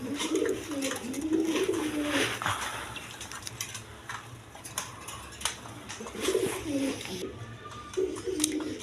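Pigeons coo close by at a pigeon farm in several repeated bursts over a background hum, with faint voices.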